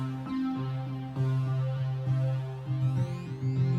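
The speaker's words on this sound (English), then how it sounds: "This is an additive oscillator," A steady, buzzy additive-oscillator synthesizer tone from the Odessa oscillator with shifting harmonics, its timbre slowly changing as it sustains without pause.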